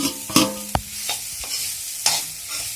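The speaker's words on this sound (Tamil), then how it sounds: "அடுத்தது கருவேப்பிலை சேர்த்துட்டு நம்ம உதுத்து வச்சோடனே அந்த உளுந்து அதை சேர்த்து ஒரு பரட்டணும்." A spoon stirs urad dal with curry leaves and asafoetida in a hot pan, with soft scraping strokes and a few sharp knocks against the metal over a light, steady sizzle.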